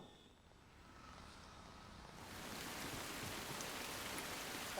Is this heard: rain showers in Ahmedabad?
yes